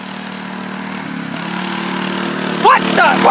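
A racing lawn mower engine drones steadily on a hill-climb trail, rising in pitch as it nears and passes close by with a brief louder surge, while a voice speaks over it.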